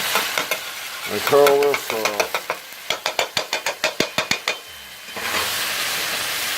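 Seafood pesto with dried basil sizzles in a pan. A voice speaks briefly at first, then a run of quick rhythmic scraping stir strokes gives way to a steady, close frying hiss.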